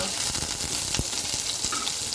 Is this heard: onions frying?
yes